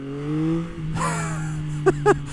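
A parallel twin motorcycle pulls hard under full throttle, its engine note rising sharply before a brief gap and two quick crackling bursts as revs climb again.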